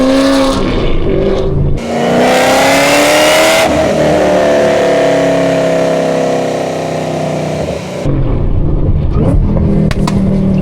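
A Chevrolet Camaro ZL1 roars around a race track, its engine revving hard through loud rising pulls with a gear change and sharp pops, heard close from inside the car.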